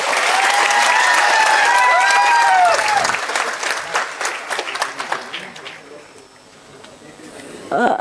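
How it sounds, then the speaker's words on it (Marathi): A crowd at a Vanjari community gathering claps loudly and steadily, then the applause thins and fades while scattered voices talk over it. "या माणसासाठी एकदा जोरात टाळ्या वाजवा बरं"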